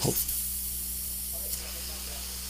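An inexpensive airbrush sprays dark neutral blue paint onto an oil painting, a steady close hiss that runs without a break.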